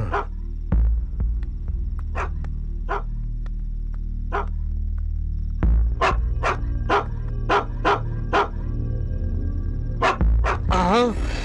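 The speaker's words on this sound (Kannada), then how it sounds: "ಈ ಹಾಳಾದ ನಾಯಿಗಳು ಮನೆ ಬಾಗಿಲ ಹತ್ರ ಬಂದು ಸಾಯ್ತಾರೆ" Dogs bark at the door of a house in sharp, loud bursts, first spaced apart and then in a faster run of barks, over a steady low hum, ending with a brief whine near the close.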